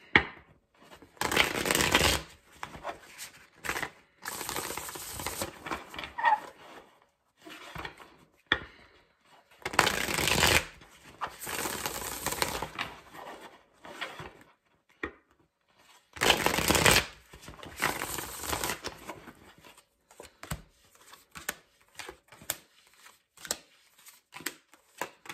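Tarot cards being shuffled by hand in repeated bursts of crisp riffling and flicking, each lasting a second or two, with quieter handling and tapping between them, close and clear with no talking.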